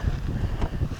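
Strong outdoor wind buffeting a microphone at a property with a cabin in mid-July, a continuous low rumbling roar with gusty surges, loud and close, with no voices.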